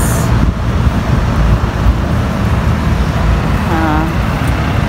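A truck rumbles past in busy road traffic in Guadalupe, a loud broadband engine and road roar that holds steady, with a brief tonal whine near the end.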